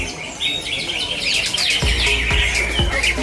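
A green leafbird (cucak ijo) sings at a bird song contest in Cikeas, Bogor, with rapid, bright chirping and whistled phrases running continuously over crowd and background noise, several sharp low thumps near the end.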